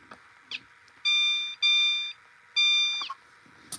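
A fire alarm chime sounds a code 3 pattern: three loud, bright tonal chimes, each roughly half a second long, the first two close together and the third after a short pause, with faint clicks in between.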